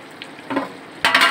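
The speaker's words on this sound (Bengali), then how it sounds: "আলুগুলো অনেকটা সেদ্ধ হয়ে আসছে, কষিয়ে নিচ্ছি ভালো করে" Partly boiled potatoes are sautéed in a pot for kacchi biryani: a soft sizzle and a few scraping stirs, then a louder burst of frying as they are turned, close up, with no voices.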